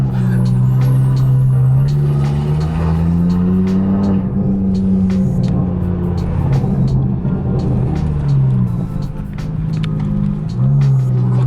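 Loud, throaty Audi RS3 engine with a 3.5-inch aftermarket exhaust droning and revving up and down close by, with a deep rumbling exhaust note and brief gear changes.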